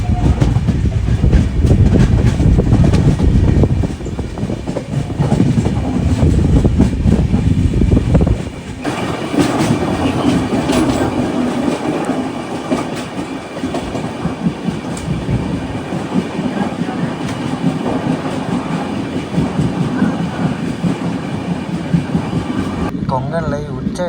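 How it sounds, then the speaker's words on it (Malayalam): The Mumbai-bound 22114 LTT superfast train rolls slowly past a Konkan railway station, heard from on board as a steady, loud rumble with rhythmic clickety-clack of wheels over rail joints and a voice talking over it. "നമ്മുടെ മുംബൈ സൂപ്പർ ഫാസ്റ്റ് ഉണ്ട് ബൈൻഡൂർ മൂകാംബിക റോഡ് സ്റ്റേഷൻ കണ്ട് പയ്യെ സ്കിപ്പ് ചെയ്തുകൊണ്ടിരിക്കുകയാണ്"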